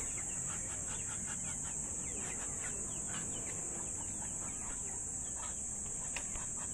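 Agitated rooster clucking repeatedly in short bursts at moderate distance over a loud, steady insect drone, with faint background voices.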